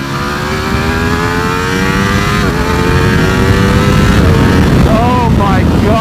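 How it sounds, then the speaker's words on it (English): A 2018 Ducati Panigale V4S on its stock exhaust pulls hard through second gear, a loud, close engine roar climbing steadily in pitch from start to finish, with a rising whine and a voice cutting in near the end. "Let's see what the exhaust sounds like through here. Not bad for a stock exhaust."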